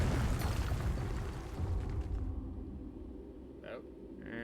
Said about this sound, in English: it's the tower that keeps shooting at me